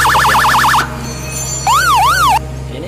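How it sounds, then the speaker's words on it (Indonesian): Loud electronic siren installed in a service car cycling through tones, a fast warbling wail, then a pause, then a slower rising-and-falling whoop, close by. "berikut sirine sama klakson sudah selesai, John."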